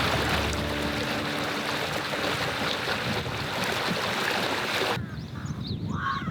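Steady broadband rush of stream water flowing through a deep mountain valley in Bonghwa in winter, continuous and fairly close, alone, with the sound thinning noticeably near the end.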